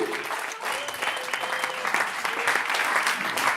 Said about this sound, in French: C'était Punk, s'il vous plaît, du bruit pour lui